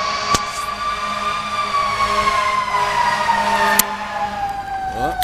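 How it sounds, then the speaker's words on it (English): Fire truck sirens wail steadily and loudly as the trucks pass nearby on a road, a sustained tone slowly sliding downward in pitch with traffic rumble beneath and a few sharp clicks. "3 fire trucks. Well, 2 fire trucks."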